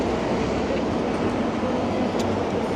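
Low, steady rumble of subway trains running beneath a New York City street on the Upper West Side near Central Park, a continuous broadband roar that holds evenly throughout with no clear voices.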